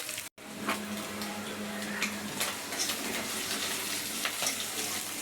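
Shrimp cook with taro stolons in a pan, giving a steady, moderate sizzle with scattered soft clicks and stirring, briefly cut off near the start.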